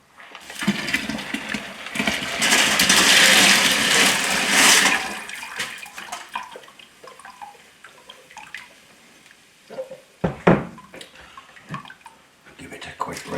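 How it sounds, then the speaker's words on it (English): Tumbled tiger's eye stones are tipped into a sieve and rinsed under running water, giving a loud rushing wash for a few seconds, then quieter trickling, drips and scattered clatters of stones against the mesh. "we'll tip it into this sieve and give it a quick rinse before we get it onto 600 grit"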